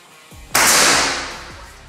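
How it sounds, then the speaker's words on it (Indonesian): A single sharp, close gunshot-like crack from a stainless PCP air rifle firing Hercules pellets, followed by a brief fading hiss, with faint clicks before and after. "Kita coba lagi ya, kita ambil 5 tembakan lagi pakai Hercules."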